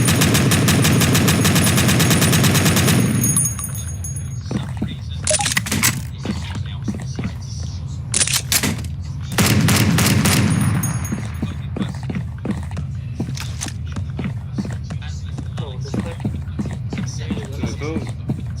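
Rapid bursts of gunfire from a gun in a video game, repeated cracking shots in quick clusters with sustained noisy stretches between them, fairly loud throughout.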